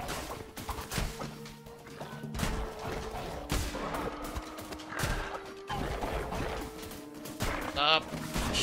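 Video-game gunfire cracks in rapid bursts through a busy, dense mix, with scattered smashing hits and a player talking intermittently over the shooting.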